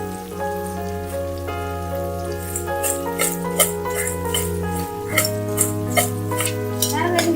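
Raw banana being stirred with salt in a pan for a South Indian fry, giving repeated scraping and tapping strokes over a sustained tonal hum, fairly loud and near, with no talking.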